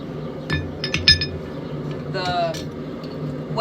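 A hammer striking hot rebar held in tongs while wedges are forged for a hammer head: a few sharp metallic clinks spaced irregularly, close, with someone talking over a low background hum.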